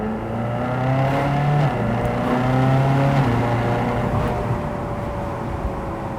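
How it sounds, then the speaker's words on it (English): A 2010 Ferrari California engine runs loud and close, its tone stepping down and settling into a lower rumble after a manual downshift. "Just manually shifted it a gear down just to slow it down."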